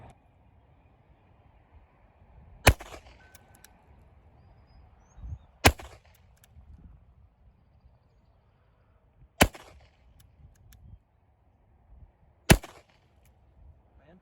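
Four sharp gunshots from a Nagant M1895 revolver in 7.62x38R, each a loud isolated crack with a short ringing tail, spaced roughly three seconds apart over a quiet, faintly humming background.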